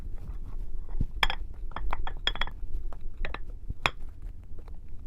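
Mud pie mixture being moved from a bowl into a pan, with a series of close, sharp clinks and scrapes of utensil against dish, irregular and fairly loud.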